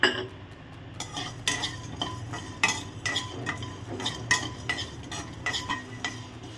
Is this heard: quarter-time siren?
no